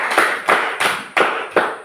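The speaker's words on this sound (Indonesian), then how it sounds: "Tepuk tangan buat kelompok 3." A few sharp, broadband slaps repeat at a steady pace, a short round of clapping from a small group for a presenting class group, with no voices over it.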